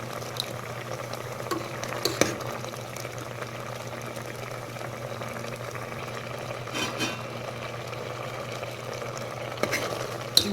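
Mustard seed tempering hisses steadily as it hits a pot of broccoli and lentil dal curry, with a soft bubbling sizzle and a few sharp pops and clinks.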